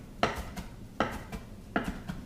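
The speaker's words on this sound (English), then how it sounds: "All right, so we're chopping." Knife chopping parsley on a board, three sharp evenly spaced chops about a second apart with lighter taps between, close and clear in a quiet kitchen.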